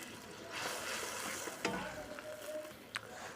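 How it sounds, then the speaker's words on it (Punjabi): Masala with tomato puree and ground green chilli sizzles faintly in a pan for mushroom and pea curry, a soft steady fry with a few stirring scrapes and clicks. "ਤੇ ਹੁਣ ਆਪਾਂ ਇਹ ਮਸਾਲੇ ਨੂੰ ਭੁੰਨਾਂਗੇ ਜੀ ਤਕਰੀਬਨ 5-6 ਮਿੰਟ ਚੰਗੀ ਤਰ੍ਹਾਂ"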